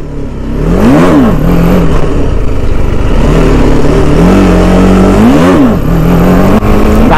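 A motorcycle engine revs hard twice during a wheelie attempt, each sharp rise and fall in pitch standing out over a steady, loud, close idle-to-midrange drone with no talking.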